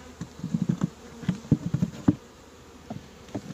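Dense swarm of honeybees buzzing in and around a hive during spring colony splitting, a low steady drone with close, irregular louder bursts as individual bees fly near, no talking.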